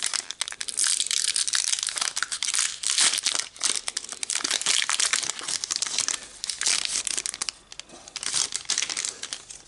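A Magic The Gathering booster pack from a 2019 Gift Pack is torn open, producing continuous loud crinkling and crumpling of the foil wrapper close up, with bursts of tearing and no talking.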